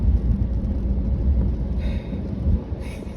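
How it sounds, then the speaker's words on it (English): Car driving in the rain, a deep steady road rumble inside the cabin with faint hiss, a couple of brief higher swishes near the end, no talk. "I am driving and it is raining"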